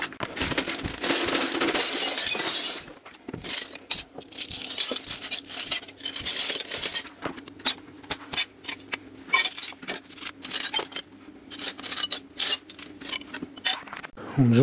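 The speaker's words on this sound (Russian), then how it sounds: "стеклом битым засыпать" Broken glass is poured out and spread over asphalt on a cellar floor. A dense rattling cascade at the start gives way to scattered clinks and scraping shards.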